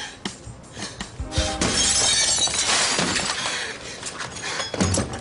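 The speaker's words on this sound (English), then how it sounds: "So she actually broke a real window." A real glass window shatters during a television drama stunt, a loud sustained crash of breaking glass with scattering fragments that trails off, no voices.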